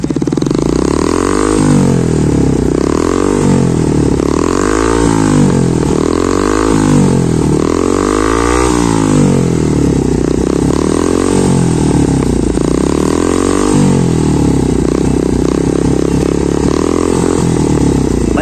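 A motorcycle engine revs again and again on a Sunday ride, rising and falling in loud close bursts with a steady rhythmic pattern of throttle blips, with no talk over it.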